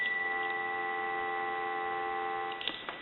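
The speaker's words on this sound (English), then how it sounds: "We'll go ahead and give you some dial tone." A steady, continuous dial tone on a Stromberg Carlson 2-1553 telephone hums for a few seconds, then cuts off with a couple of faint clicks.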